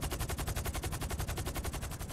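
Steady fully automatic gunfire in Grand Theft Auto V, an even rapid rhythm of shots repeating without pause for the whole stretch at moderate loudness, with no voices over it.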